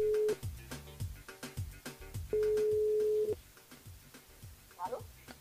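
A telephone calls back a radio listener from a live studio: a steady electronic line tone sounds in two long beeps, with voices talking over and between them.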